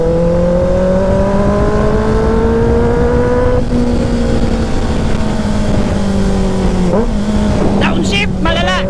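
A Kawasaki ZX-6R motorcycle engine holds a loud, sustained roar on the road, its pitch sliding and dropping through a downshift, with wind rush throughout and a few quick blips and revs near the end.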